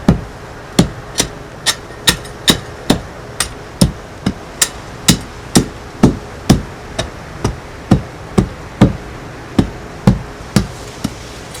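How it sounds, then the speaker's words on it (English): Sand base for a brick paver path is tamped down with a hand tamper, giving about two dozen sharp, evenly spaced thuds at roughly two per second, close and loud over quiet background. "The next thing we're actually going to do is stamp it down again to make compact it down"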